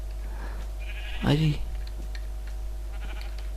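A Minecraft sheep lets out a single short, wavering bleat up close, with a voice talking just before and a steady low hum running underneath.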